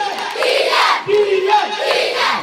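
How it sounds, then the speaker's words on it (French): An enthusiastic football crowd cheers and chants for Kylian Mbappé at a club celebration, loud rhythmic shouts of many voices rising and falling in waves, close and full. "devant une foule enthousiaste"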